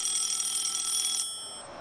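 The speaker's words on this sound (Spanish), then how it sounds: "A ver, poneme efecto de cómo sonaba el BlackBerry." Old BlackBerry phone ringtone played as a sound effect, a bright high electronic tone held for over a second, then cutting off and fading out.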